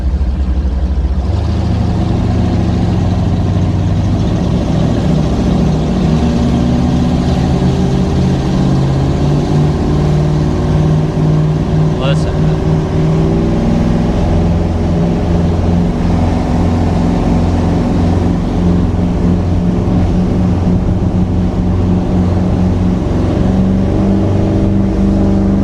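A 1988 Formula 357 SR1 boat, heavy and modified to about 1100 horsepower, runs its engines with a loud, deep, sustained burble that rises and falls in revs, close to the microphone and with no talk.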